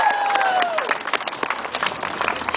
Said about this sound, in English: come another round of applause for her